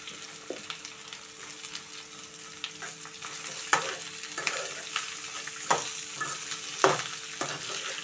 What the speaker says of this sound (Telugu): ఇప్పుడు మనం దొండకాయ ముక్కలు అయితే దీనిలో వేసేసుకుందామండి.